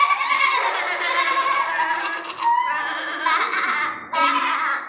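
People at a Christmas Day church service imitate sheep, voices producing a loud, wavering, nasal baa in several drawn-out bleats with brief breaks between them.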